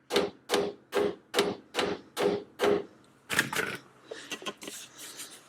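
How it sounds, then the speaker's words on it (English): A mallet knocks a part onto a lowered vehicle for a snug fit: seven evenly spaced, firm thuds close by, followed by a quicker run of lighter clattering taps. "I like to hit it with a mallet"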